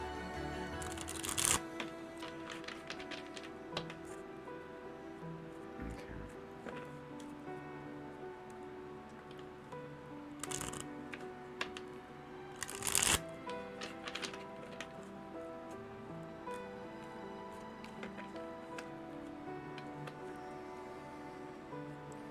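Soft riffling and shuffling of tarot cards in short bursts, with quiet handling noises in between, close and fairly faint.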